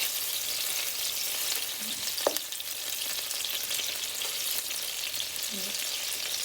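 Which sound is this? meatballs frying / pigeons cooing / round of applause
meatballs frying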